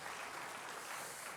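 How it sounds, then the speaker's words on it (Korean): Korean church congregation clapping during a Sunday morning service, a soft, even patter of many hands, distant and faint, lasting only a moment. "박수로 하나님께 영광 드립시다."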